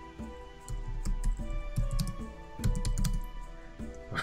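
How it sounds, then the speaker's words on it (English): Rapid, fairly quiet clicking from a computer keyboard as someone types during a game session, uneven bursts of keystrokes over a low, steady background hum. "All you're gonna hear on the video is me typing"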